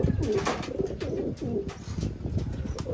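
Racing pigeons, among them a blue bar, coo repeatedly in a loft, a close, continuous series of throaty rolling calls overlapping one another.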